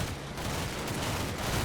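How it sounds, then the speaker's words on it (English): Anti-tank rifle fire striking a Schwimmwagen in the wartime game Combat Mission Red Thunder, a dense, steady rumble of gunfire and impacts filling the short stretch without any talk. "that would be the anti-tank rifle, I think"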